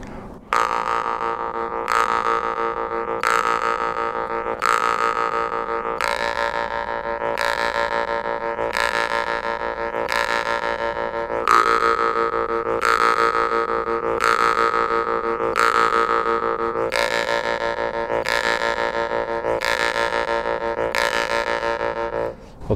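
A jaw harp played with the player's mouth breathing: a steady twangy drone pulsing in quick, even swells as exhalations and inhalations shape the tone, sustained alone and close for the whole stretch.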